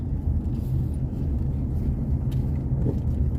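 Manual-transmission car on the road in third gear during an off-site driving lesson, a steady low engine and road rumble heard from inside the cabin, with no talking.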